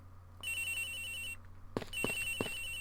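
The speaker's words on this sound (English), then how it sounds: "The ring's coming from somewhere around here." A telephone rings in the Ace Attorney Investigations video game: a steady electronic ring that stops briefly, then resumes, joined by a few short knocking thumps near the end.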